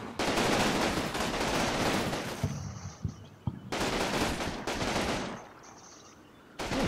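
Heavy machine gun fire in a Combat Mission World War II battle with the 29th Infantry Division at La Valence, coming as sustained loud rattling bursts separated by short pauses and scattered single shots.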